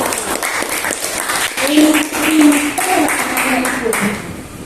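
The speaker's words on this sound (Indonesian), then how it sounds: "Aplaus untuk Febri." A classroom of students claps for a classmate who answered correctly, a steady patter of hands lasting several seconds at moderate loudness, mixed with some voices.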